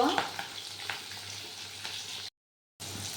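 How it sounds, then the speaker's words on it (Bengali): Katla fish fries in hot oil with a close, steady crackling sizzle and a few louder spits early on, then a short silent gap before the sizzle resumes. "মাছটা আমি সুন্দর করে ভেজে নিব।"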